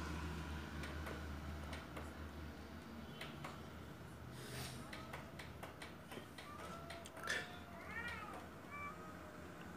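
Street cats in a standoff, giving off faint hisses and rising, wavering yowls and meows, with soft ticking and scraping in the background, a quiet, tense scene outdoors.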